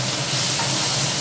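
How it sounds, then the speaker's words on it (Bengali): Crabs frying in hot oil for a masala crab fry, giving a steady, dense sizzle and hiss that holds evenly throughout, close and moderately loud with no voice over it. "এই যে ভাজা হচ্ছে,"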